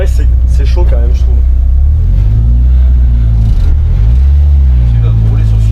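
Citroën C15 at a drag race: a loud, close engine revving repeatedly with deep swelling rumbles that rise and fall, while people talk over it.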